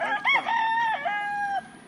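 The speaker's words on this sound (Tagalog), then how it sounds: "dito sa aking likuran ay mayroon pang mga panabong na mga manok" A fighting rooster crows once, close and clear, a rising then long drawn-out cock-a-doodle-doo with no talking.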